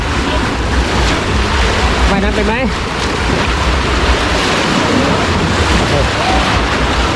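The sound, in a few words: waves in a water park wave pool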